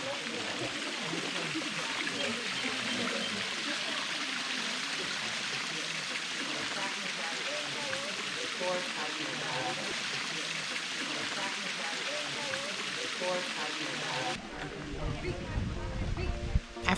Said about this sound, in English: we reached that first lower waterfall